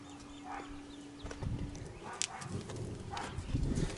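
Horses walk slowly during a therapeutic horsemanship session, with a few close, irregular hoof clops on the ground and faint birdsong behind them.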